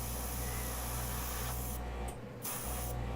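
Air is blown onto an acrylic paint pour to spread the cells, giving a close, steady breathy hiss that breaks off briefly near the end before resuming.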